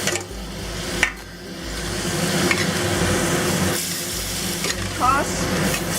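Prawns go back into a hot pan with a Vietnamese-style roe sauce, sizzling and frying steadily as they are stirred, with a few scraping knocks of the utensil against the pan.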